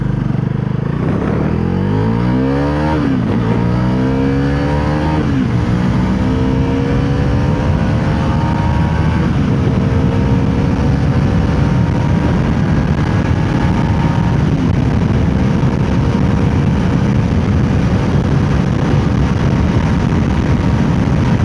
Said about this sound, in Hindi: एग्जॉस्ट नोट काफ़ी अच्छा है, और वाइब्रेशन की मैं अगर बात करूं 7000 RPM से ऊपर जाने के बाद वाइब्रेशंस थोड़े से बढ़ जाते हैं